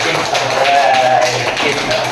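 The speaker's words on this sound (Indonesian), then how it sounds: "Kasih tepuk tangan dulu untuk kita semua." A third-grade classroom of pupils clapping together, a loud, steady rush of many small hands held at an even level throughout, with faint voices mixed in.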